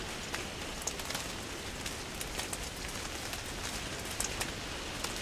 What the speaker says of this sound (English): I love how it's raining and the sun is out